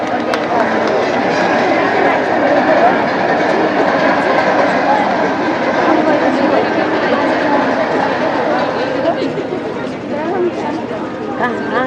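A train pulls into Tarighat station in a stage play, rumbling steadily with a rhythmic clickety-clack for nearly twelve seconds and easing off near the end, with voices talking over it.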